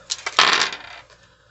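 Dice rolled onto a hard surface give a couple of light clicks, then a short bright clattering tumble that settles and fades within about a second, heard close and without any voices.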